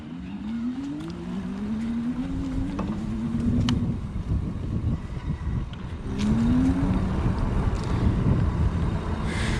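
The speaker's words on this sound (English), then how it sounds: "we're just gonna do some throttling around first so you can get an idea for how powerful it is" An AddMotoR MOTAN M-66 R7 electric bike runs on throttle alone, its motor whine rising in pitch as it speeds up, easing, then climbing again, under steady wind and road rumble, no talking.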